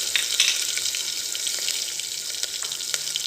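Garlic, green chilli and curry leaves sizzle and crackle in hot oil for a dal tempering, a steady close-up hiss with scattered small pops, no talking.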